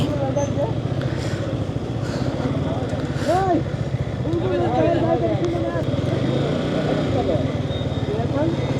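Motorcycle engines idle and rev nearby in a steady drone, with people talking over the noise.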